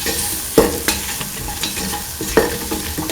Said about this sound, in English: Thoroughly mix in the salt in the mixture spices